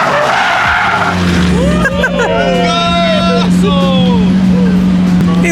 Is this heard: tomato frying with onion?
no